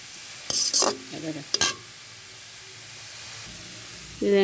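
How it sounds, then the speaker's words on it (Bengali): Onion and garlic fry in a pan while kalmi greens are being cooked, giving short bursts of sizzling and stirring scrapes, then a quieter steady frying hiss before a fresh sizzle near the end; no talk. "শাক রান্না করার সময় পেঁয়াজ রসুন একটু লাল করে ভেজে নিতে হবে।"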